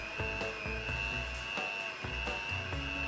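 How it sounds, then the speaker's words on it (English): An electric whisk whirs steadily at high speed through Victoria sponge cake mixture, a continuous close motor whine with faint rhythmic knocks as the beaters touch the bowl. "I'm going to use an electric whisk"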